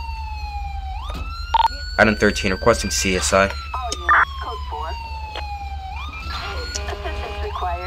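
Police car siren from GTA V wails and sweeps up and down through most of the stretch, steady and prominent under radio chatter and spoken voices, rising again near the end.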